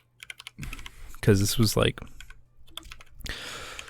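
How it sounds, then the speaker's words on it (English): A mechanical computer keyboard gives quick clicky keystrokes in short bursts, with a person talking over and between them. "probably a solid 25-30 minutes of typing"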